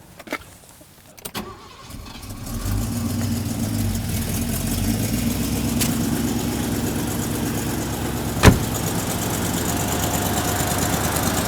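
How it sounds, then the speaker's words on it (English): A V8 car engine starts in a shop after a couple of sharp clicks and then settles into a smooth, steady idle with a low rumbling drone, broken once by a brief sharp knock. "this little old V8 is just purring."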